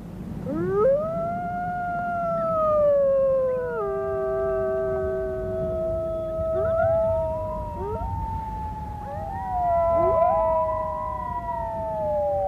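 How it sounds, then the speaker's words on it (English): Several wolves howl together in long, gliding, overlapping tones that rise and fall over a faint background hiss, with no talking. "the wolf howl is the most evocative and the most mysterious"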